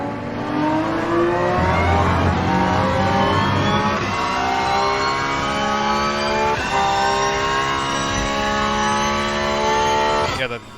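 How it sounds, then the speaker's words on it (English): Porsche race car in the Rennsport sim racing game revving hard through the gears, a loud continuous engine roar with a rising high gear whine layered on top, a brief gear change near the end. "that gear whine noise is"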